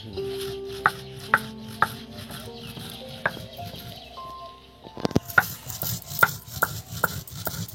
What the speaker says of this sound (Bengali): আমার মশলা গুঁড়ো করা হয়ে গিয়েছে